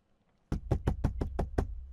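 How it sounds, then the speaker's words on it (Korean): Seven sharp knocks on a glass door of an apartment building's shared entrance, evenly spaced and close, following a near-silent pause. "전 시모는 문을 두드리며 저를 불렀습니다"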